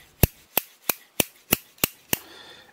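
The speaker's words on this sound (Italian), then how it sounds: "in modo tale da oliare il meccanismo di chiusura delle nostre forbici" Bonsai scissors with a freshly cleaned, sharpened and oiled closing mechanism snap shut seven times in a steady, even rhythm, each crisp metallic snip close and clear with nothing else heard.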